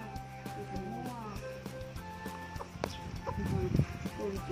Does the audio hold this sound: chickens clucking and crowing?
yes